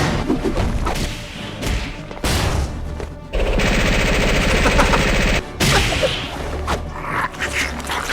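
Gunfire in an animated Venom versus Bane fight, heard as loud sustained bursts and sharp cracks with thuds and impacts between them, dominating the mix with almost no talk.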